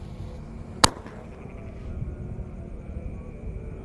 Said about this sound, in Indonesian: di sini ada bazooka mini namanya Sonic Boom teman-teman